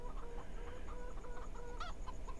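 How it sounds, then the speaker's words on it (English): Chickens cluck steadily in the Farming Simulator 17 video game, a run of soft repeated clucks with a brief louder squawk, set against a constant low hum and faint insect chirping. "All I hear is chickens and crickets."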